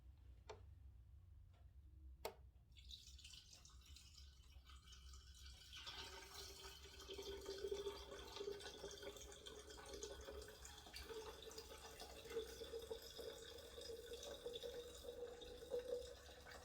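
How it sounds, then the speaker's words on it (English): Homemade lemonade pours into a container with a soft, continuous trickling flow that starts after a few quiet seconds with faint ticks, then runs steadily and fairly quietly to the end. "we're going to pour it in."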